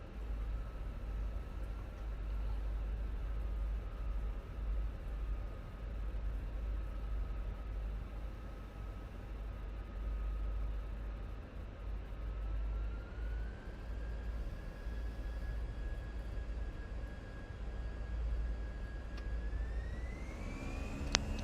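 Airbus A320 engines spooling to takeoff thrust in a flight simulator game: a constant, loud roar with a steady whine that climbs in pitch partway through, with no voices over it.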